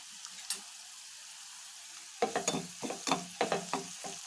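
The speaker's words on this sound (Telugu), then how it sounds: "ఆవాలు, జీలకర్ర, పచ్చిశనగపప్పు, మినప్పప్పు, క్యాప్సికమ్ ముక్కలు, అల్లం ముక్కలు, ఎండుమిర్చి, కరివేపాకు వేసుకొని ఫ్రై చేసుకోవాలండి." A tempering of mustard seeds, cumin, chana dal, urad dal, capsicum pieces, ginger, dried red chillies and curry leaves fries in a pan. A quiet start gives way to a run of sharp stirring scrapes over a crackling sizzle.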